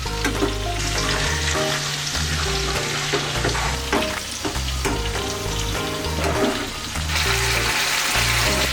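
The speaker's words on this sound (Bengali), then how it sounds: "আমরা এবার মাছগুলোকে এক এক করে উল্টে দেব সাবধানে করবে যাতে মাছগুলো ভেঙে না যায়" Masala-coated katla fish pieces frying in a pan, turned over one by one, give a continuous crackling sizzle beneath loud background music.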